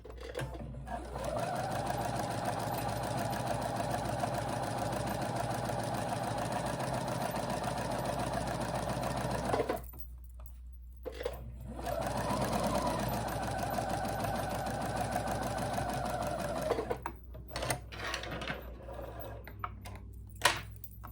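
A sewing machine stitching rows of gathering stitches on fabric, a steady fast mechanical whirr running in two long stretches with a brief pause between and a short burst at the end.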